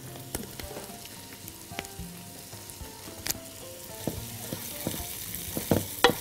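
Chopped onions fry in a pan, making a soft, continuous sizzle with scattered crackles and occasional clinks of utensils.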